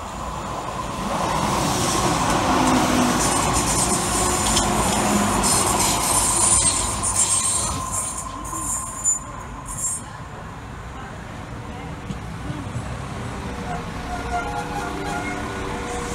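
A train rumbles and clatters steadily at close range, wheels squealing faintly, then the noise fades to a quieter hum as it slows, arriving at a station between Langley Green and Smethwick Galton Bridge.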